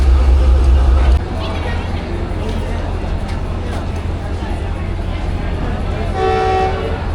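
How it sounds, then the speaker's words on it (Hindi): Rehman Baba Express passenger train pulling away from a station on the Karachi–Rohri line, a steady rumbling roll under the crowd murmur, with a brief horn-like tone near the end; people talk over it throughout. "चलिए जी हमारी ट्रेन मूव हो रही है"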